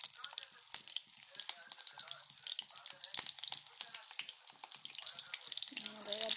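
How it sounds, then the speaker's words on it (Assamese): Pokori dough balls drop into hot oil and fry with a steady crackling sizzle, dense popping bursts throughout, close and moderately quiet, with a low tone near the end. "এতিয়া এই তেল গৰম হ'ল। তাৰপৰা মই এয়া লাড়ু এটা দুটাকৈ ইয়াত দিম।"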